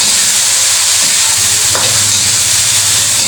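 Corned beef dropped into a hot pan for a cabbage dish gives a steady close sizzle and frying hiss, with a brief clatter of stirring partway through and no talking.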